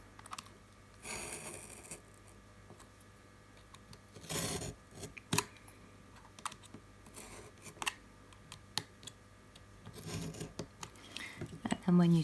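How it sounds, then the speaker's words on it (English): A small cardboard box being cut into sections, with scattered snips and scraping cuts, a few sharp clicks and rustling handling over a quiet room hum, fairly close. "So we're going to be cutting these small sections out of the box."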